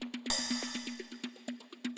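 A bright cymbal crash bursts in and rings out, decaying over a steady beat with a low bass tone.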